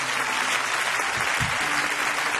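Church congregation applauding during a worship service, steady loud clapping from a full room sustained across the whole moment, with a few low thumps partway through.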